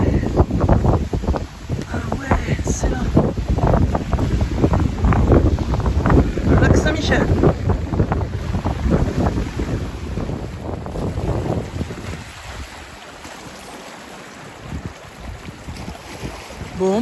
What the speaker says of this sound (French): j'entends les vagues et je les vois passer. Ouais, par-dessus là. Slouch. Incredible. Avec le vent.